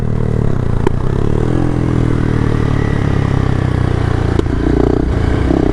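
A Honda CRF300L Rally motorcycle pulling hard in second gear, its engine a loud, close, continuous drone with a rising pitch, mixed with wind rush and a couple of sharp clicks.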